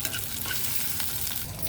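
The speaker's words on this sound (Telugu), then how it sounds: "బాగా ఈ విధంగా ఫ్రై చేసుకోవాలి." Spices, including fenugreek seeds, sizzle loudly in hot oil as tempering for sambar, giving a dense, continuous crackle with stirring close up and no voices.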